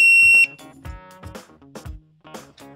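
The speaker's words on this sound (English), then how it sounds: "mistakes made while programming will cause a red light to flash and beep" A Codelocks CL5000 series electronic keypad lock gives error beeps, a long high tone followed by several short, irregular electronic bleeps and clicks, close and clear with no talking.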